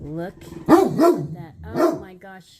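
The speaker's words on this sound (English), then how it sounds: "I truly apologize for the barking, especially if you're wearing headphones." Two or three loud, close dog barks ring out indoors, overlapping a woman's excited speech.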